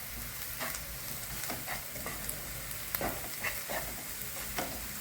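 Egg masala sautéed and stirred in a pan, a steady close sizzle broken by repeated scraping strokes of a spoon at an uneven rhythm, with no talking.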